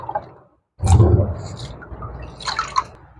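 Sardines are washed by hand in a bowl of water for a Jaffna fish curry: a sudden sloshing splash after a short silence, then softer swishing, trickles and scattered drips, close by with no talking.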